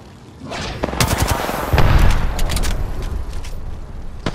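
In an Apex Legends match, close, loud bursts of gunfire and heavy impacts build into a rattling exchange, with no talk over it.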